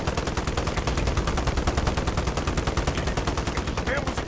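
Rapid automatic gunfire from Call of Duty: Modern Warfare (2019), a dense, steady stream of shots rattling continuously for the whole stretch, loud and close, with the player's chatter mixed in.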